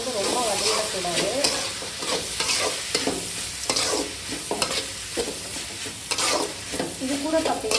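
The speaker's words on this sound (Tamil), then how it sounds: "அந்த மாங்காயை சேர்த்திக்கணும். சேர்த்துக்கிட்டு ஒரு 2-3 மினிட்ஸ் வதங்கினா போதும்." Chopped raw mango stirred and sautéed in a hot pan for mango rice, with a steady sizzle and repeated scraping strokes of the spoon, close and continuous with no talking.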